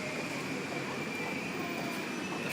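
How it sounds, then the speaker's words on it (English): A steady rumbling roar of a passing train near Ueno station in Tokyo, with a faint high squeal, continuous and fairly distant. "so there comes another train"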